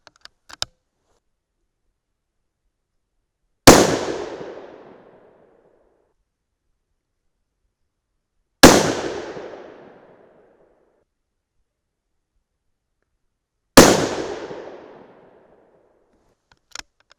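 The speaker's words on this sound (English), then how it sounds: "So let's go ahead and shoot 1 or 2 more." A 6 PPC rifle fires hand-loaded rounds in Lapua brass, three sharp, loud, close shots spaced about five seconds apart, each with a short decaying echo, with faint clicks between and no talking.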